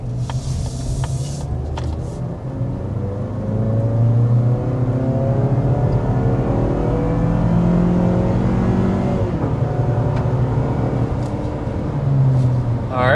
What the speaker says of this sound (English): we want to go ahead and give you a hard acceleration